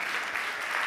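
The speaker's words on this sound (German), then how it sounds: "Kleiner Applaus." A short, moderate burst of audience applause at a public university lecture on viruses, an even patter of clapping hands with no voices.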